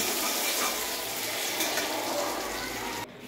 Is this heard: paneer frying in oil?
yes